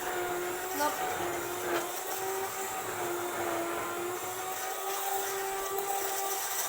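Electric hand mixer whirring steadily in a home kitchen while wet cake batter is beaten, a continuous high motor whine holding for several seconds, with faint background voices.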